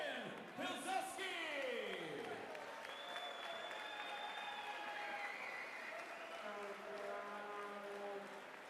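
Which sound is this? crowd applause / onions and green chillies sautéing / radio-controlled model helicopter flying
crowd applause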